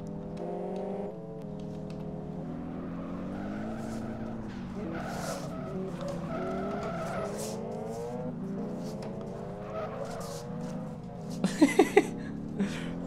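A car drifts in the Need for Speed racing game, with a steady engine drone throughout and a loud burst of tire squeal near the end.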